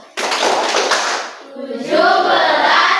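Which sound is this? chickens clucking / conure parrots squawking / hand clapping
hand clapping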